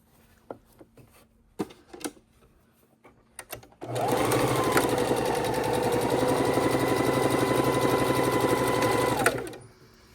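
A sewing machine stitches pairs of quilting fabric strips together for a quilt's first border. A few clicks of handling come first, then the motor runs steadily and fairly close for about five seconds before stopping.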